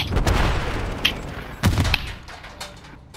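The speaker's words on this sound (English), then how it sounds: "Throwing flash grenade." Flash grenade going off in Call of Duty gameplay, a burst of sharp bangs and gunfire-like cracks in quick succession, loud and close, with a few scattered hits trailing away.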